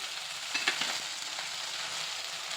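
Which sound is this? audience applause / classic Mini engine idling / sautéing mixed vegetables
sautéing mixed vegetables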